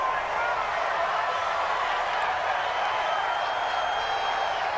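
A stadium crowd in the Madden 20 American football video game gives a steady, loud roar that does not let up for the whole stretch.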